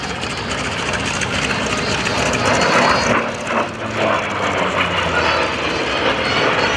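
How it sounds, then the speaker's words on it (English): Warbird aircraft engine taxiing at the Blue Angels Homecoming airshow, a steady loud broadband drone with a brief dip midway, continuous throughout. "So, Segway's going to taxi it back."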